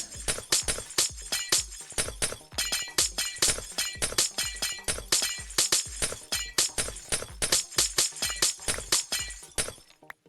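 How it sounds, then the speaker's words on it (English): Ice blocks breaking with a glassy shatter in a video game, a fast, loud run of repeated crisp smashes and clinks one after another, with no voices. "Ah, yes, the sounds of breaking glass."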